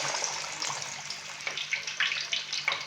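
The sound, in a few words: chicken pieces frying in hot oil in a kadai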